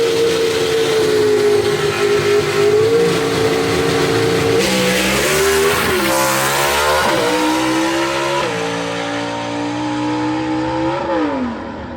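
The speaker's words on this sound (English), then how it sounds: "B-Gas going to come around the corner next to you, 8 pounds per cubic inch." A B-Gas class gasser drag car at Knoxville Dragway, Tennessee, roars loud and close for the whole stretch, its engine note rising and dropping through several revs and gear changes before easing off near the end.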